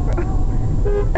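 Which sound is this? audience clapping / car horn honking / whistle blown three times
car horn honking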